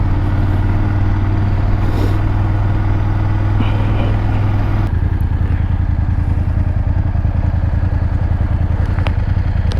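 A BMW F800GS motorcycle rides through Berlin streets, its engine giving a steady loud drone with a lower rumble that drops partway through, and a few brief clatters of traffic around it.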